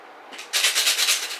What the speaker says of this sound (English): You can hear them shaking around.